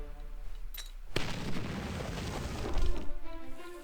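A grenade detonates in the Battle Nations strategy game, a single sharp crack followed by a rumbling boom that lingers and swells slightly before fading, with no voices.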